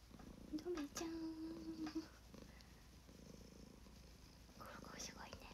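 A cat purring loudly and steadily at close range, with soft whispering over it and a few quiet vocal sounds.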